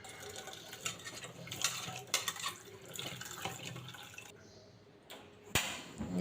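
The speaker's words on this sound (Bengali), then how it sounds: "কয়েকটা দেশি আলু ভালো করে ধুয়ে এখন বসিয়ে দেব।" Tap water running and splashing while native potatoes are washed in a sink, with irregular splashes, drips and light knocks of handling, close by and fairly quiet.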